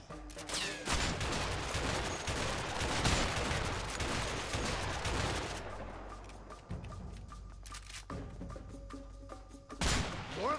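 Sustained heavy gunfire from a shootout in the video game A Way Out, a dense fusillade of overlapping shots that thins into scattered bursts near the end, with no talk.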